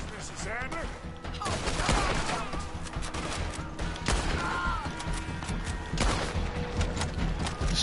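Dense gunfire from a Red Dead Redemption 2 shootout, with rapid overlapping shots and crashes sustained throughout, loud and close, and voices partly heard under the din.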